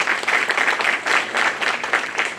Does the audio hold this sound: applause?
yes